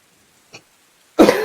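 A sneeze bursts out loud and sudden near the end, preceded by a small faint sniff or catch of breath, amid a quiet room during a tabletop role-playing game session.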